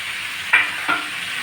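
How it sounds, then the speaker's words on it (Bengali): Whole garlic cloves drop into a hot kadai for a chickpea, garlic and Malabar spinach curry, giving two short bursts of sizzle over a steady frying hiss, with no voices. "এবার আমি কয়েকটা রসুনের আস্ত এই কড়া দিয়ে দিচ্ছি আর দুটো গোটা রসুন দিয়ে দিচ্ছি"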